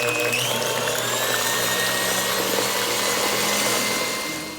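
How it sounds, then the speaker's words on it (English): Blender running on high mixing cake batter with vanilla bean and extract, a loud steady whirring drone that holds for several seconds before easing off at the end. "blend another 2 minutes on high"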